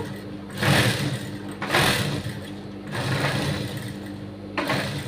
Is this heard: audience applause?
no